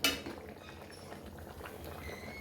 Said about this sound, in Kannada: ಏನು ಕುದೀತಾ ಇದೆ ಕೊತ ಕೊತ ಕೊತ ಕೊತ